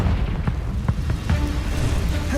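A Confringo blasting spell from a Harry Potter video game erupts in a heavy rumbling explosion. Sharp crackling debris pops scatter through the roar, and no one speaks.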